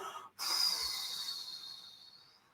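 A slow guided breath in during a relaxation talk, a single long airy exhalation that starts after a brief pause, close and clear, tapering away gradually with no talking over it.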